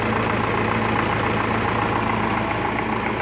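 A YuMZ tractor engine idles hot after an oil filter adapter was fitted to its centrifuge, giving a steady, close, even rumble with a faint knock and no break for the whole stretch.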